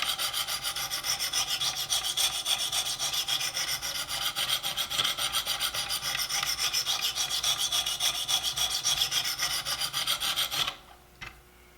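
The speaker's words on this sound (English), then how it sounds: "So with this scrubbing motion, what you're doing is getting rid of the marks from the previous grit." A hunting knife is sharpened on Wicked Edge stones with a steady scrubbing motion, giving a continuous close rasping grind for about ten and a half seconds before it stops abruptly.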